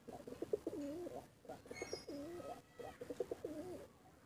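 Pigeons cooing in a loft of Bengal pigeons, with repeated throaty coo phrases in several bursts, fairly close and moderately loud, with a few faint higher chirps between.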